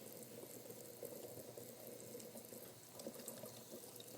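Canning jars are washed with a rag under running water in a sink to remove oily residue after canning turkey bone broth. Water runs faintly and steadily throughout with no talking.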